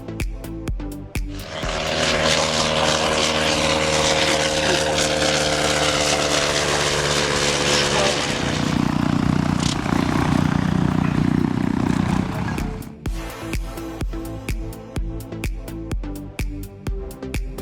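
Sopwith propeller aircraft at the Shuttleworth season premiere airshow at Old Warden, its engine roar swelling loud and steady as it passes close, then receding into a rougher droning buzz before fading into crowd and wind noise.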